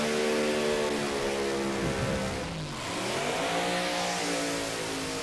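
Front engine dragster with a 350 cubic inch small block Chevrolet engine at a drag racing championship, a loud revving roar whose pitch drops and rises as the car passes nearby, with a doppler sweep midway.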